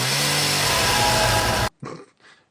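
A chainsaw in the horror film 31 roars loudly and steadily, then cuts off abruptly, followed by two brief, quieter bursts of noise.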